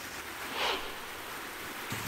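Floodwater rushing across a farm field after heavy late-season rain, a steady broad wash of flowing water, close and continuous with no talk.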